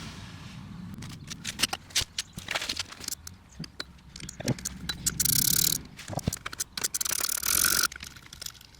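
A ratchet loosens bolts on the air conditioning pump of a 1.6 TDI engine, giving close, rapid clicking bursts with metallic knocks and tool handling in between.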